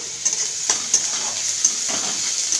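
Steady sizzle of onions frying in a pan, with occasional stirring scrapes and clinks over the constant crackle.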